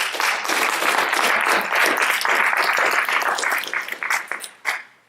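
A live audience at a community event claps in a sustained round of applause that thins into scattered individual claps before fading out at the end.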